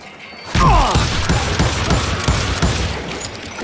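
Gunfire in the Western game Call of Juarez Gunslinger erupts as a loud opening blast followed by a rapid irregular volley of shots and clattering mechanisms.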